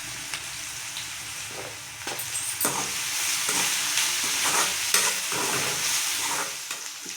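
Onions sautéing in oil in a pan for egg puffs, a steady close sizzle with scraping, stirring strokes throughout and no talk.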